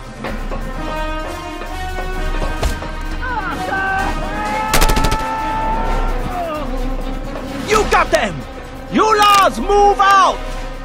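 Gunfire from enemy snipers in the open-world action game Just Cause 2 mixes with a steady engine drone and swelling music, and a game character shouts orders over the sharp cracks.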